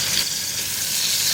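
Garlic ginger paste hitting hot oil in a pan with whole spices, a loud, dense, continuous sizzle close up with no talking.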